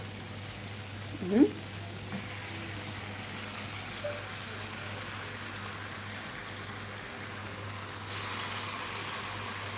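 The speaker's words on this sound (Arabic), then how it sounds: "سامعين التشتشه؟" Custard-filled phyllo pastry lowered into a hot pan gives off a steady, faint sizzling hiss that runs throughout and swells slightly near the end, with a short voice heard early on.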